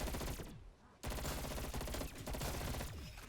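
FFAR assault rifle firing in the Call of Duty zombies map Die Maschine, loud sustained automatic bursts broken by a brief pause, close and dominant.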